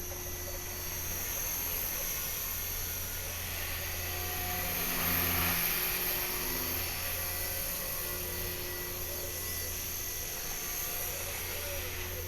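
An HK 450 RC helicopter hovers and flies with a steady, high-pitched whine of rotor and motor, continuous and fairly near, swelling slightly midway.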